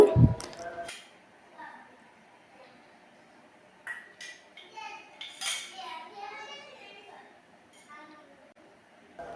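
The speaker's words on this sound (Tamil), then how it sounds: "இனி இது போல் ஒரு புட்டுக்குழல் எடுத்துட்டு" A metal puttu steamer tube is picked up in a home kitchen while making wheat-flour and coconut puttu, with a loud metallic clank and rattle at the start, followed by someone talking.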